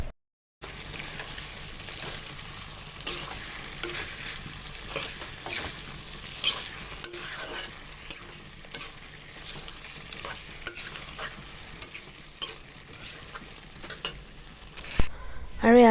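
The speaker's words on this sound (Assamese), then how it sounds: "বিলাহীখিনি মই গলি যোৱালৈকে ভাজি ল'ম" Two chopped tomatoes fry with broiler chicken in a pan. A continuous low sizzle runs under frequent sharp stirring clacks and scrapes of a spoon against the pan.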